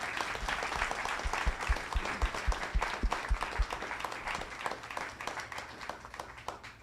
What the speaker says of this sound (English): can we get a round of applause and thank you for their time tonight?